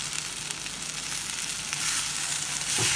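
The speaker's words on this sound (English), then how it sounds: "I'm adding chopped tomatoes and some chopped capsicum." Chopped tomatoes and capsicum frying in a pan, a dense, bright sizzle that swells slightly partway through, close and fairly loud, with no voices over it.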